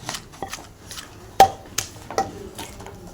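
Red onions pounded finely for a red chili chutney, a few sharp irregular thuds close by with quiet gaps between them and no talking.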